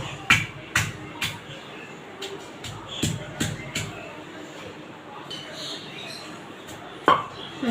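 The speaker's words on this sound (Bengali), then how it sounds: "আমি এগুলো একটু এরকম করে পুঁতা দিয়ে থেতলে নেব" Chicken meat pounded with a grinding stone: a series of sharp, close thuds in irregular clusters, some quick pairs, with pauses between them and faint background voices.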